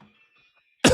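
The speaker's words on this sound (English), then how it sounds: "Jeez, what was that? Coughed." A single sharp cough bursts out near the end after near silence, close and loud, from a man live day trading futures.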